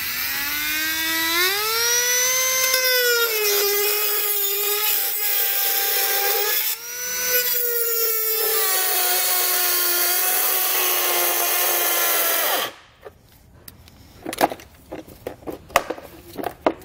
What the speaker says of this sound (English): This is relatively thin plastic. I'm gonna use a Dremel tool to cut it out